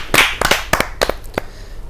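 Scattered handclaps from an audience at a Hindi kavi sammelan poetry gathering welcome a poet, a few sharp, uneven claps over under two seconds.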